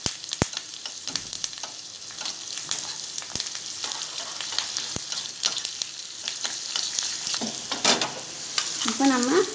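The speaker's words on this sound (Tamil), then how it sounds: "இது நல்லா பொரியட்டும்." Curry leaves fry in hot oil with a crackling sizzle and sharp sporadic pops that grow busier toward the end. Near the close a faint squeal rises above the frying, and no speech is heard.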